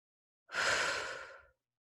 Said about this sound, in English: I do a lot of deep breathing to help move the energies along